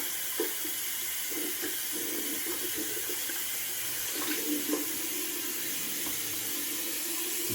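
Water runs steadily from a sink tap while soap is rinsed off a face, a soft, continuous hiss broken by small splashes, close by and with no talking.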